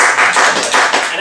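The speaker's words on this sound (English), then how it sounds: "I just wanted to do a clap." A single sharp hand clap, loud and close, ringing briefly in a small room with no talking over it.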